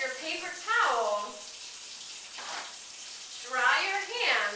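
Water runs steadily from a tap while hands are rinsed at a sink, a continuous hiss that carries under intermittent talking.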